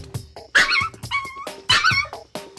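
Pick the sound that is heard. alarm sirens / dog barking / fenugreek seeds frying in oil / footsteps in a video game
dog barking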